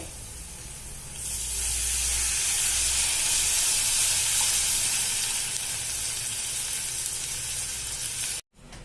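Loud, steady hiss and sizzle as half a glass of water is poured into a hot pan of Khandeshi patodi rassa, starting after a second and holding strongly before cutting off abruptly near the end.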